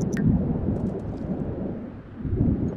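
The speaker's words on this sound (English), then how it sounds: "It's just a fucking thunderstorm." Thunder rumbles through a thunderstorm in The Sims 4, deep, rolling and fairly loud, with a brief crackle at the start and a second swell of rumble near the end.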